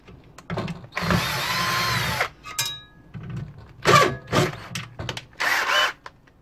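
A power screwdriver takes screws out of a floppy drive in a vintage 1986 PC: one longer close whir, then several short, uneven motor bursts mixed with clicks and metallic handling noise.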